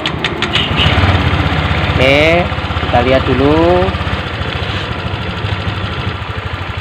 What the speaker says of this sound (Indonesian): Oke, kita nyalakan motornya.